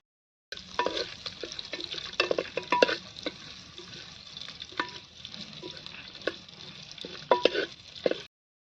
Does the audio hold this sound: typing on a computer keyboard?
no